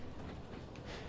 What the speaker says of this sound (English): I'm going to let the train coast down to 10.